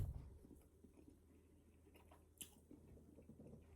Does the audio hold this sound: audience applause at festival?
no